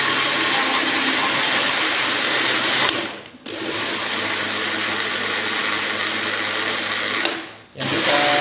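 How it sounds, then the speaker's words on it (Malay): A kitchen blender whirs loudly and steadily as it purées onions, garlic, shallots, turmeric, galangal and ginger for a spice paste, running in long continuous bursts with two brief pauses between them. "Lepas tu kita blend bawang tadi."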